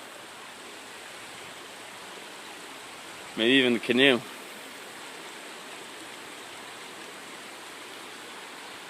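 Rushing floodwater after heavy rains flows steadily throughout like a fast stream, with someone briefly speaking over it partway through.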